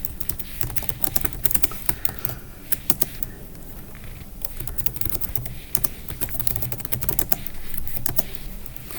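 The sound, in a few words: typing Python code on a computer keyboard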